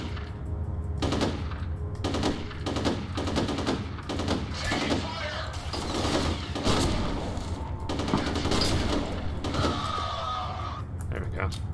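Rapid bursts of automatic gunfire from a first-person shooter video game, firing in repeated volleys with brief gaps between them, loud and constant, while players talk over the shooting.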